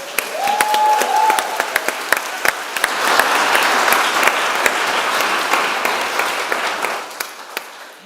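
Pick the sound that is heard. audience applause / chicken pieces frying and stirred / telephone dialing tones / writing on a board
audience applause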